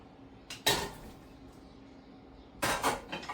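Cooked cassava being mashed in a pressure cooker, with two sharp clattering bursts of a utensil striking the metal pot, a brief knock between them, close and fairly loud in a quiet kitchen.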